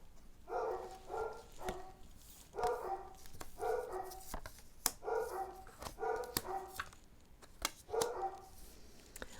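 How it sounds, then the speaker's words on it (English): Dogs bark repeatedly in a loose rhythm of sharp, fairly distant yaps, with a series of clicks and taps between them and no speech. "Sorry, my dogs."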